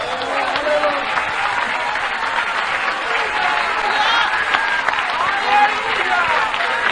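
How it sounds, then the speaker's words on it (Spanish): Congregation applauding to God during a 1988 church service, steady crowd clapping under cheering voices and shouts, with a lively, continuous wash of sound throughout. "Oh, cuántos de los aplausos a Dios en esta hora."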